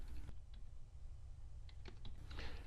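A URL being entered on a computer keyboard: quiet, scattered key clicks in short runs over a steady low hum, close and soft, with no voices.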